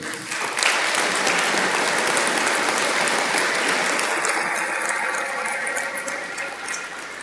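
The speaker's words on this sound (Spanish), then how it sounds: "Un aplauso al Señor por ello." A church congregation breaks into sustained applause during a Spanish-language sermon, a dense roar of clapping that swells quickly after a brief quieter start and holds strong before easing slightly.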